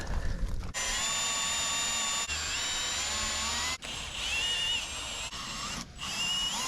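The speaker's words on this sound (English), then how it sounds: "now I'm gonna drill all the way into the frame" A power drill bores into the metal frame of a Coleman pop-up camper, whining in several bursts separated by brief stops, close and steady, with the pitch wavering as it bites.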